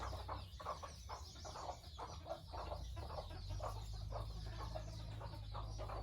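Chickens cluck and peck steadily while eating freshly cut Napier grass, in soft, rhythmic bursts close by over a low background rumble, with no talking.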